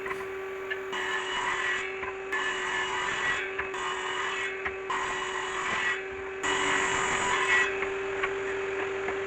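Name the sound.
ripping pallet wood lengths with a power saw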